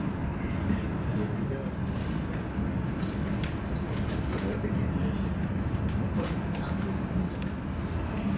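Interior of a first-class car on the Whoosh Jakarta-Bandung high-speed train: a steady low rumble and rushing hum of the moving train throughout, with faint voices mixed under the noise.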